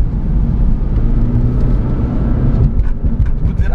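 A modified Toyota Prius fitted with an Apex throttle controller accelerates hard, its engine and road noise forming a loud, steady roar close to the listener with no talking.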